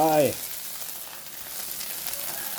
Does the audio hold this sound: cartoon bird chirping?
no